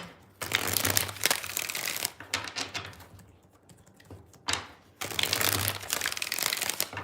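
A deck of tarot cards is shuffled by hand in several dry, riffling bursts, with a quiet pause in the middle before a longer, steady run of shuffling.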